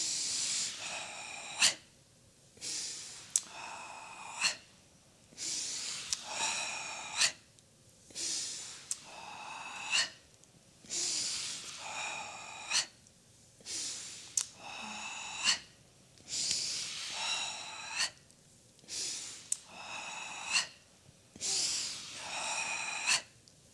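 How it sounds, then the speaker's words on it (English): Slow, rhythmic breathing during a Gyrokinesis hip exercise, with close, airy inhales and exhales repeating in an even cycle of roughly one breath every two seconds, quiet and unaccompanied by talk. "underneath it all is that rhythm of your breath"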